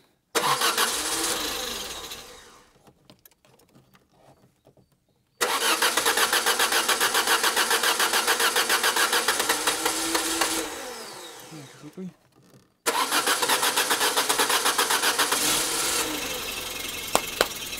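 A Citroën BX being brought back to life: the starter cranks and the engine catches into a loud, steady idle, drops away, then starts again twice more, close by and alone.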